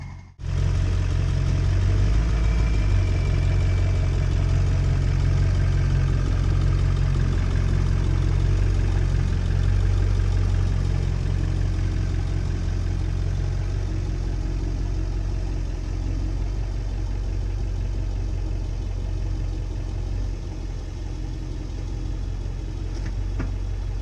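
A Ford 7.3 Powerstroke diesel truck with a Fisher plow idles steadily after warming up, giving a loud, continuous low rumble with a faint clattering edge that holds unchanged for the whole stretch.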